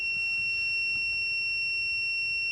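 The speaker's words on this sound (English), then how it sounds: "So it lets you know with that beep noise, and it'll cut the power to it." A steady, high electronic beep tone from a 12V power inverter sounds continuously, clear above a faint background hum.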